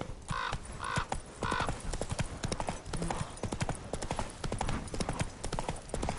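Roach the horse trots in The Witcher 3, steady clip-clop hoofbeats in a continuous rhythm, close and clear, with a few faint crow-like caws in the background.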